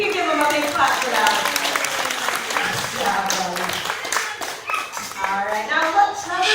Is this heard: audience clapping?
yes